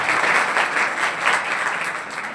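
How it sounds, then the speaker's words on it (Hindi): Steady, dense audience applause fills a 12th-grade board exam merit awards ceremony, many hands clapping loudly and continuously throughout. "जोरदार बड़ी ताली के साथ स्वागत करेंगे।"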